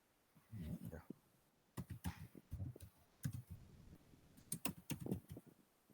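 A name being typed on a computer keyboard in an author field, heard as bursts of close, crisp key clicks in quick runs, with a person talking over and between them.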